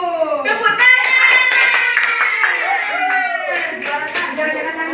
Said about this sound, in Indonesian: Ini kelompok 1. Tepuk tangan.